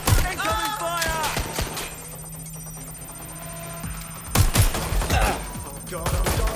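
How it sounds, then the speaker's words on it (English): Gunfire in Watch Dogs: Legion on PS5, with sharp shot bursts at the start and again near the end, broken by a quieter gap and mixed with urgent voices. "Suspect has opened fire! Incoming fire!"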